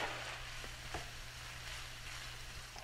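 Bacon and onions sizzle in a large sauté pan over medium heat, a steady broadband frying hiss with a few soft pops and stirring clicks, close and continuous.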